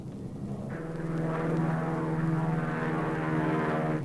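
Propeller airplane engines droning steadily in flight, a loud, continuous throbbing hum with a slight pulsing beat that holds level throughout, heard from inside the aircraft with no voices.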